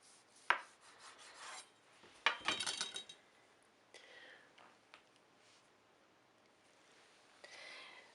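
A knife cuts through a rolled log of pastry dough for pains aux raisins: faint, soft scraping slices with a couple of sharper rasping strokes, quiet and close, with long pauses between cuts and no talking.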